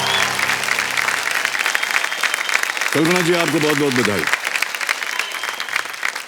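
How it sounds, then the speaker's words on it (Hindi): Studio audience applause on a television quiz show, loud sustained clapping throughout while someone speaks briefly over it. "तालियां बजते रहें जोर से।"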